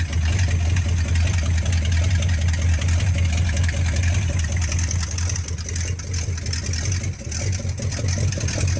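A 1949 GMC 425 Nailhead V8 in a street truck idles through open headers, a loud, close, steady low rumble with a slight lope that runs throughout.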